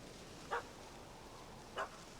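Two short, separate dog barks in The Witcher 3 video game, from a puppy that chased a scruffy cat up a tree, sounding moderately distant over quiet ambient noise, about a second apart.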